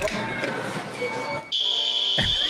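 A pulled fire alarm sets off a steady, piercing electronic tone that starts partway through and holds loud and unbroken over a noisy background.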